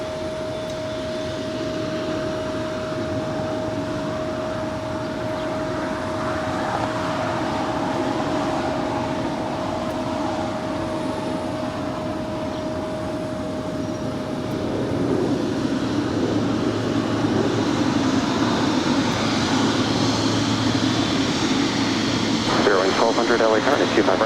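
An EVA Air Cargo Boeing 777 freighter taking off at Los Angeles airport, a broad continuous jet roar that swells toward the end, heard at a distance with a steady tone running through it and no clear talk.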